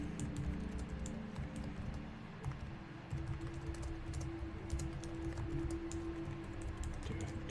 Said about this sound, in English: Do forgive the typing.